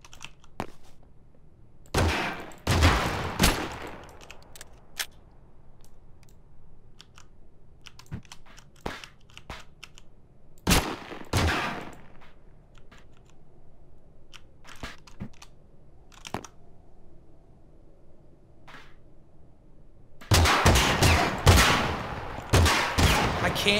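Gunfire in a physics-based video game comes as a few short, loud bursts of rapid shots separated by long quiet gaps, with scattered small clicks and thuds in between.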